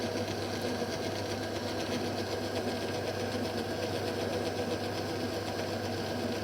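A lathe turning a burned electric motor commutator for a very light skim cut, a steady, close mechanical hum and whir with a faint rhythmic chatter running throughout, no voices.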